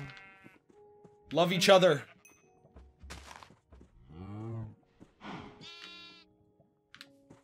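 Blocky Minecraft sheep bleat in a few short, wavering calls, heard between stretches of close speech from a player.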